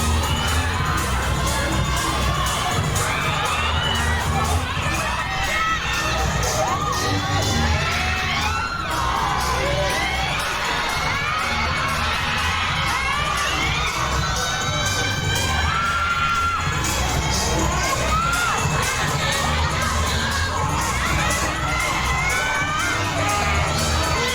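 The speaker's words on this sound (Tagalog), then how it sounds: "Grabe sigaw ng mga tao." A large crowd of fans screams and cheers nonstop at an SB19 press conference at a Dunkin event, a dense, loud wall of shrieks and whoops with occasional bangs.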